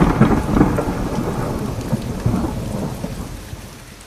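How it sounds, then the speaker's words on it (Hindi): Heavy rain pours steadily over a night-time city with low rolling thunder rumbling through it, loud and continuous before slowly easing toward the end. "वरदान सिटी की बारिश"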